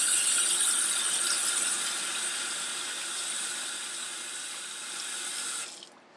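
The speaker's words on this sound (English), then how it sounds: "I'm going to rinse my hands off real fast." Hands rinsed under a running kitchen tap, a steady close hiss of water pouring into the sink for about six seconds before the flow shuts off.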